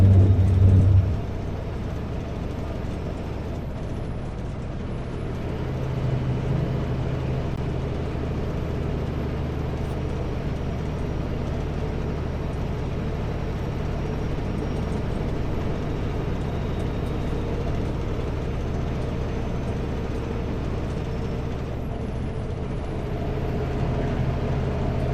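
A truck hauling two empty trailers climbs a grade, its engine droning in a steady, heavy low rumble throughout, with a brief louder burst at the very start and faint road noise underneath.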